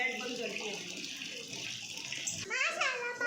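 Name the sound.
dirty sewage water flowing into house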